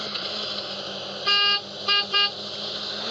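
A bus horn in a bus-driving video game blares three times, one longer blast then two short ones close together, loud and clean over a steady low engine hum.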